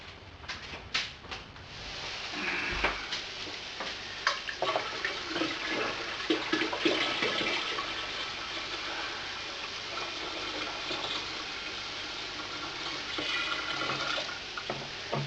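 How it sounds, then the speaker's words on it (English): Water gushes and splashes steadily into a 20-litre ginger beer brewing container for a long stretch after a few knocks and clunks, loud and close with no talking. "Let me just get some last water for that."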